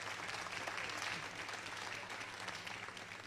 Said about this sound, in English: round of applause for all three